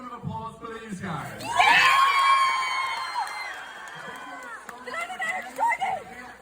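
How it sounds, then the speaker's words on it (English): A live touring show's audience whoops and cheers loudly, with high shrill shouts swelling then trailing into scattered crowd noise and chatter, while a presenter's voice carries over the room. "bring a final round of applause for these guys"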